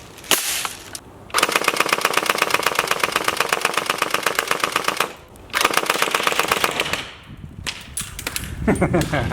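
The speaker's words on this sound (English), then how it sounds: "It has 3 barrels, so a full auto shotgun." An electric airsoft triple-barrel full-auto shotgun fed from a drum magazine fires in long rapid bursts, a dense rattling stream of shots broken by two short pauses, loud and close.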